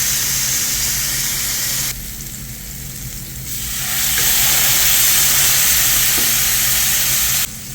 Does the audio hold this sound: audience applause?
no